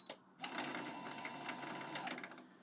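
A sewing machine's bobbin winder spins up to wind thread onto a bobbin, giving a steady, close mechanical whir with a faint rhythmic ticking that runs almost unbroken after a brief start.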